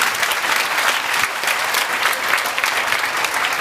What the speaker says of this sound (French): Applaudissez ça waay.